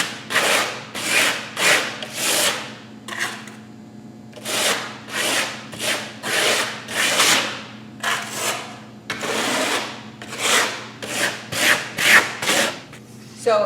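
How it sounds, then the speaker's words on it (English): A trowel skims horizontally over freshly applied Atova decorative wall coating, giving a run of repeated soft scraping strokes in a steady back-and-forth rhythm, close and fairly loud, with no talking. "I kind of just run my trowel lightly over it horizontally."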